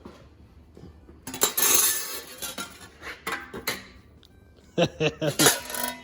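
A freshly cut piece of sheet metal for an oil pan drops and clatters on a hard surface, a burst of bright metallic rattles followed by a second cluster of clinks.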